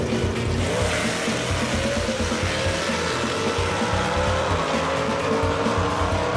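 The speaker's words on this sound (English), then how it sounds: "Howard's car launches hard, goes left" A gasser drag race car launches hard at Kil-Kare Dragway, its engine roaring loud and continuous with tire noise as it pulls away down the strip.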